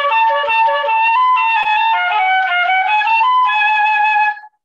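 Flute plays a short passage at a masterclass, the first two notes slurred and the rest detached, a clear sustained tone stepping through several pitches with no talk.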